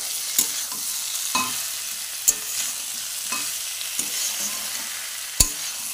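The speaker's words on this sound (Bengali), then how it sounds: "তারপরে যে সয়াবিনগুলো দিয়ে দিচ্ছি, ভালো করে একটু নাড়িয়ে দিয়ে নেব।" Soybean chunks being stirred into a pan of spices cooked with salt, turmeric and chilli powder, a soft steady sizzle broken by a few sharp spoon scrapes and taps, close and clear with no talking.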